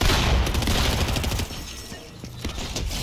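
NPC gunshots in Fortnite crack out in a quick close burst, then thin into scattered, lighter shots with brief pauses between them.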